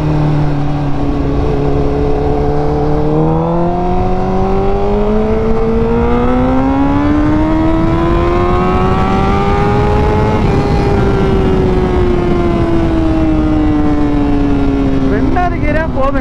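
A vehicle engine is revved hard and close, its pitch climbing steadily, easing back, then settling into a sustained drone that stays loud throughout.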